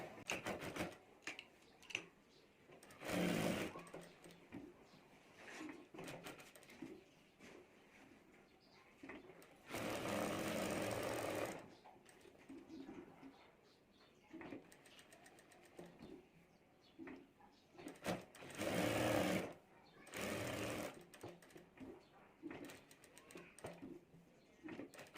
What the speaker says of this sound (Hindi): उसके पास ही हमें सिलाई करनी है।